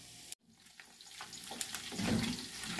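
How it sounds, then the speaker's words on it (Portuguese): Pork rinds (torresmo) fry in a pan, a continuous hissing sizzle that swells louder toward the end after a brief cut near the start. "Tá fritando, tá quase bom."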